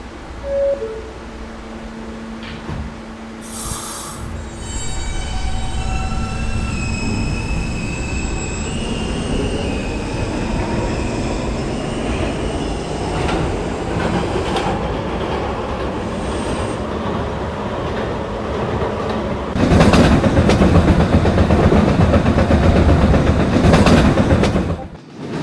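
An R160A subway train on the K line runs loudly and steadily, with rumbling wheels, high metallic squeals and clicking rail joints, swelling louder near the end.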